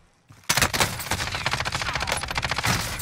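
Video game gunfire in Warzone: after a brief quiet start, a loud, rapid automatic burst erupts and keeps going as a dense, continuous string of close shots.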